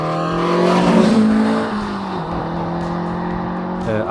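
A BMW E30 M3 race car engine roaring loudly up close, swelling hard before easing into a sustained high-pitched drone with a brief rise near the end, under a faint voice.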